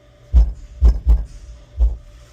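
Two Hippo XLR 12-inch subwoofers in a car, pushed to maximum, pound out four heavy, deep bass thumps in an uneven, heartbeat-like rhythm, loud and close, with no talking.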